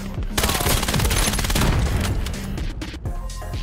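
Rapid automatic gunfire in the VR shooter Vail VR, loud and close. A continuous fusillade of shots rattles almost without pause, broken only by a brief gap near the end.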